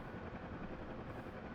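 A helicopter in the flight simulator game DCS drones with a steady, low rotor and engine hum, faint and continuous throughout, with no other sounds on top.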